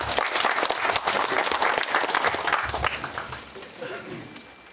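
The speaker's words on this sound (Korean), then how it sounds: "모두 뜨거운 박수로 맞이해 주십시오" Audience applause welcoming a speaker at a Korean academic conference, dense steady clapping from a crowd that carries for several seconds and then thins out and fades toward the end.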